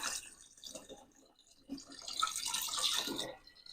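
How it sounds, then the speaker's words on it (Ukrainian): Cooled water splashes and trickles into a container for a few seconds while making raspberry wine, a soft, close pour that swells toward the end. "Охолоджена вода. 700. Наливаємо."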